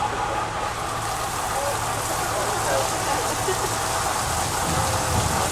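Simulated rain from ordinary sprinklers set in trees on a Universal Studios Hollywood tram tour, a steady broadband hiss of falling water on surfaces, loud and continuous with a low engine hum beneath.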